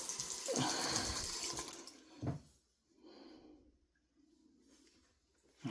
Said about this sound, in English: I'm gonna put water back on top of it.